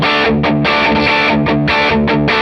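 An electric guitar through an OCD-clone overdrive pedal in its HP mode plays a short repeated riff, loud and thickly distorted, with chords chugging in a steady rhythm, alone with no talking.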